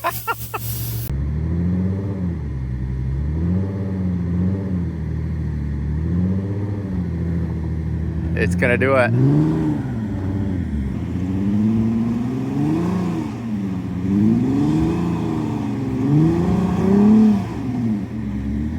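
A car stuck in desert sand revs its engine repeatedly in rising and falling surges, a loud, close mid-pitched roar with one brief sharp burst partway through and a short spoken remark near the start.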